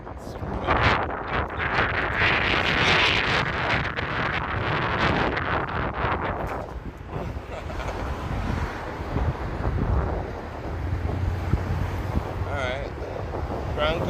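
Wind gusts across a microphone outdoors on the Las Vegas Strip at night, loud buffeting rumble that swells and eases, with scattered street noise and faint voices underneath.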